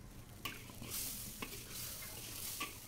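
Spices for nasi kebuli sauté in hot oil, giving a steady close sizzle broken by a few sharp scrapes and clinks of a utensil against the pan.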